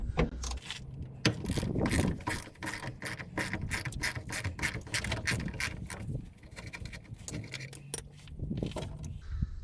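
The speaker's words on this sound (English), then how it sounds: "We've got our 10 mil ratchet. So we're gonna undo." A 10 mm ratchet undoing a bolt on a Jeep Cherokee XJ, rapid clicking bursts of the pawl with metallic jingles and short pauses, close by.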